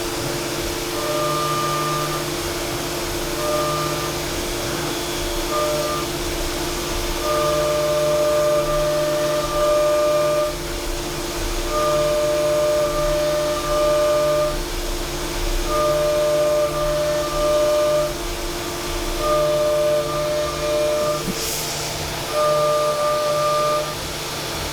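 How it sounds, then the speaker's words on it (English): A Haas VF2SS CNC mill spindle runs steadily, a quiet, even machine hum with sustained tonal whine that pulses in regular cycles while cutting custom knife handles, with no voices. "I love how quiet this spindle is in compared to the TM we got at work"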